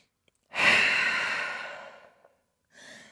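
A deep exhale in downward dog yoga pose, a long, steady breath that fades out slowly, followed by the start of another breath, close and clear with no talking.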